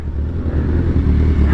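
A 2008 Suzuki GSX-R 1000 sport bike fitted with velocity stacks, with a faulty clutch, rumbles steadily at close range on a test ride, its low engine drone holding loud and even throughout.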